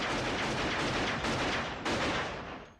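Gunfire rings out in a Pulp Fiction film scene as two hitmen shoot their victims, a loud, dense, continuous blast with fresh sharp bursts about two-thirds through before tailing off.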